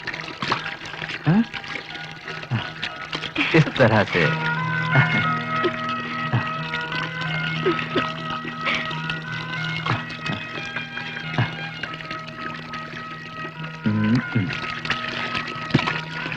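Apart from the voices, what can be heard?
cold water being poured into hot bath water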